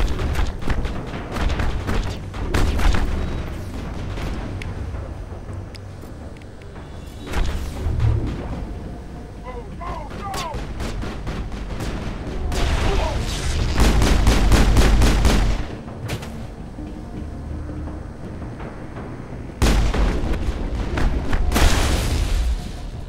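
Gunfire from squad weapons during combat in the Mass Effect video game, with dense bursts and rapid volleys of shots recurring throughout, loud and close, with heavy booming impacts mixed in.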